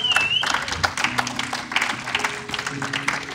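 Congregation clapping through a church service, a steady broad wash of applause with voices mixed in, fairly close and continuous for a few seconds.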